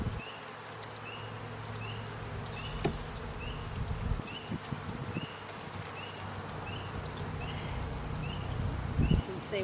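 Honeybees hum and buzz steadily around an opened backyard hive during a spring inspection, a dense close insect drone with occasional nearby wingbeat passes and light handling knocks, a voice speaking briefly over it.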